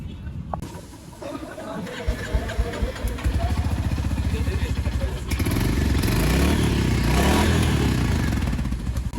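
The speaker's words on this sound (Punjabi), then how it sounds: "ਆਪਾਂ ਦੇਖਣ ਆਏ ਆ ਜੀ ਮੋਟਰਸਾਈਕਲ ਰੋਇਲ ਇਨਫੀਲਡ" In a bike showroom, a Royal Enfield motorcycle engine runs with a steady, thumping idle that swells louder partway through, while people chatter nearby.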